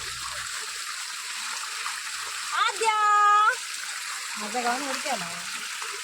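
Steady flowing water runs throughout, with a voice and another brief voice rising over it.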